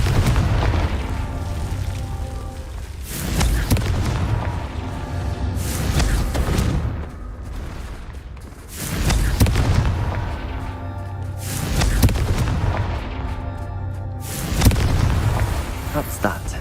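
Repeated booming spell explosions from Confringo cast in the Hogwarts Legacy video game, about five heavy blasts at roughly three-second intervals, loud and close, each with a lingering rumble.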